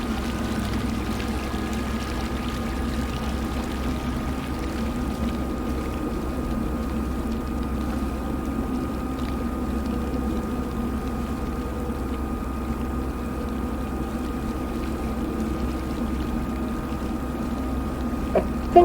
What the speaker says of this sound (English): I think what Laura is hearing is an underground river